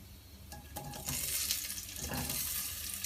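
Cumin and nigella seeds with potatoes fry in a little hot oil, a soft, steady sizzle with occasional stirring clatter, close and fairly quiet, no voices.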